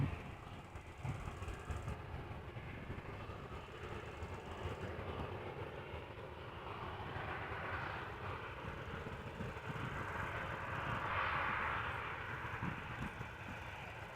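A Boeing 777 at Amsterdam Schiphol Airport gives off a distant, sustained jet roar that swells gently toward the end under a broad rumbling wash of airport noise.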